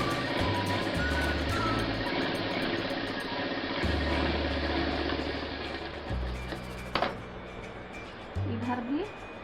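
A sewing machine stitches a lined blouse in several steady runs of whirring, broken by short pauses and slight speed changes, with small handling clicks between bursts.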